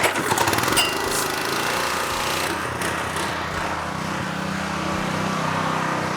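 A pressure washer runs at 3,500 PSI with a loud, steady engine drone and rough pulsing, close and continuous throughout, with brief spray bursts near the start and no speech.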